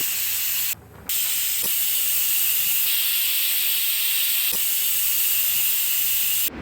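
A pressure cooker full of mutton soup vents steam in a loud, continuous hiss, broken by a brief drop near the start and a few faint clicks, with nobody talking.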